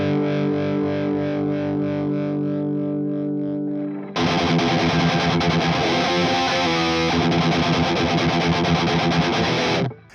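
Heavily distorted electric guitar through a Victory VX Kraken tube amp with a Marshall-style thrash tone: sustained chords at first, then loud, dense chugging riffing after a brief pause.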